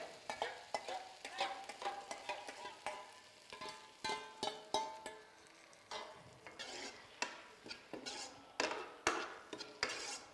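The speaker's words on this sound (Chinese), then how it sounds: "把原料倒入锅中， 烹入兑好的碗汁儿" Ingredients for chicken stir-fry are tossed in a wok with a poured sauce: rapid metal scrapes and clanks of a spatula against the pan over a steady sizzle, in repeated bursts, close and fairly loud, with no talking.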